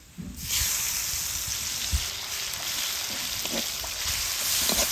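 Whole five-spice seeds, a dried red chilli and whole garlic cloves hitting hot oil in a village kitchen, giving a sudden loud, steady crackling sizzle that holds for several seconds with small spits and pops.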